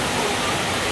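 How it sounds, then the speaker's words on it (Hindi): Heavy rain pours at night in Raipur as a dense, steady hiss, loud and unbroken through the brief moment. "बहुत तेज बारिश।"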